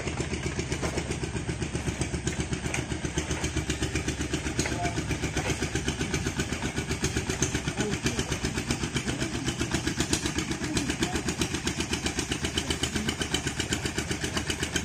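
A boat motor on a mangrove outing chugs along steadily at an even pulse throughout, loud and continuous, with no pauses.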